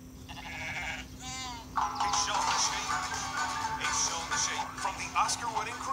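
Cartoon sheep bleating in a Shaun the Sheep DVD trailer, several wavering bleats over a steady hum, with music and other cartoon sounds.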